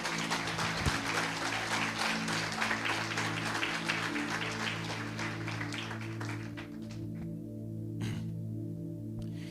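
A church congregation breaks into a long round of strong applause, dense clapping that fades after several seconds, over a sustained low organ-like drone with a few scattered claps at the end.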